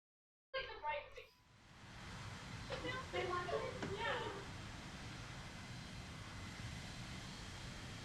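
Aircraft engine from a War Thunder plane spins up after a brief burst of speech, settling into a steady, fairly loud droning hum that holds evenly throughout, with a few faint voice fragments riding over it.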